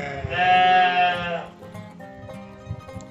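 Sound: Santa Inês sheep bleating

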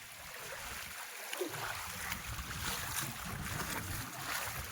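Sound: flowing stream water

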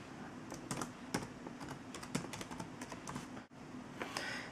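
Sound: typing a password on a computer keyboard

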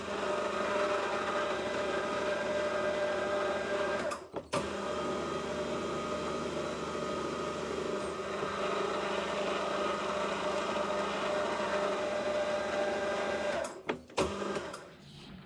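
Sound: power tapping a thread for face mill arbor

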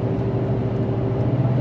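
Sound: dumpster truck downshifting to third gear, engine revving uphill

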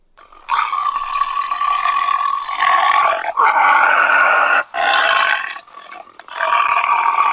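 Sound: tiger roar

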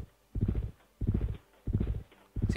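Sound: horse hooves clip-clop in a video game

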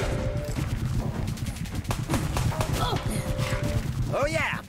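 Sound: gunfire in video game Let It Die

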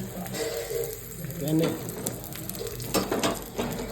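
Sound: stuffed bread frying in oil

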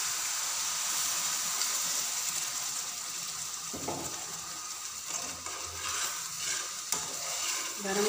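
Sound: sugar syrup poured into semolina halwa, stirred while cooking

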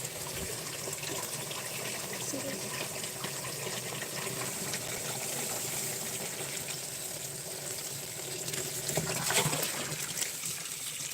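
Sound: water from borewell pump flowing into chrysanthemum field

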